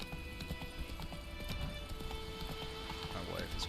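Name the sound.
horse Roach galloping in video game The Witcher 3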